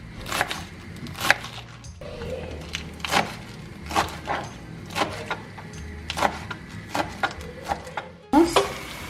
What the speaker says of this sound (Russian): И также мелко нарезаем шпинат